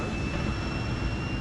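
A steady, low rumbling drone fills an airplane cabin in bad weather with the seat belt sign on, with a few thin high tones running continuously above the roar.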